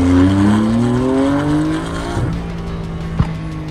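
A Toyota Supra and a Porsche 911 accelerate hard in a street race, engines loud and close with rising revs through gear changes, then a brief tire chirp and fading engine roar.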